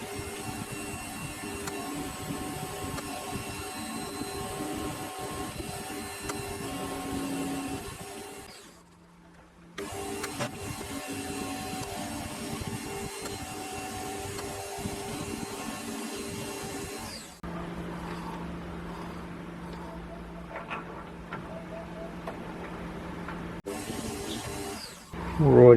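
A metal lathe turns a small part for a model steam engine, a steady machining whir with shifting tones that stops briefly near the middle and changes pitch in the later stretch.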